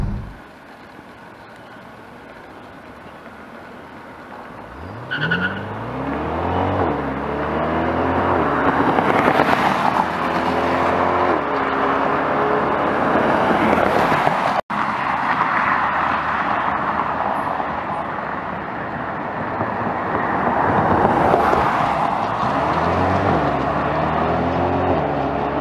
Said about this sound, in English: You can actually see right here a video of it taking off.